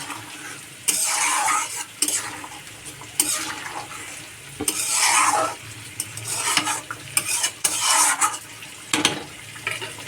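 Prawns go into a pot of pumpkin curry, sizzling with repeated bursts of scraping and stirring against the pan, loud and close, with metal clinks between strokes.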